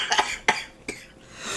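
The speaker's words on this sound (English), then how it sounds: "It's so bad it made the death metal guy cough." A death metal vocalist coughs three times in a played recording, sharp, close bursts spaced about a third of a second apart, with quiet in between.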